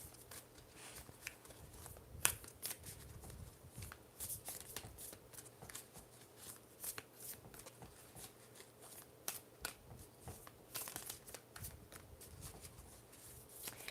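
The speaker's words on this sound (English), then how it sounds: "let's just pull a couple of cards" A deck of cards is shuffled steadily for a card pull, with repeated riffling and flicking bursts running throughout and staying fairly soft and close.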